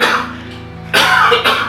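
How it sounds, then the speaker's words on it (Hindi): A man gives two harsh coughs close to the listener, a short pause between them, after a stretch of muffled indoor sound. "आप पहले खांस लीजिए।"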